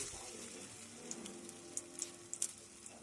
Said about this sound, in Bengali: তারপরে অল্প তেলের মধ্যে এটা এইভাবে আমি ভেজে নেব এক এক করে সবগুলো